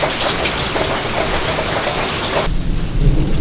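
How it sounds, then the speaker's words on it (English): A heavy rainstorm pours down in a dense, loud, steady hiss with rumbling thunder mixed in, continuing without a break; the sound shifts abruptly partway through as the rain's character changes. "after a nice heavy rainstorm"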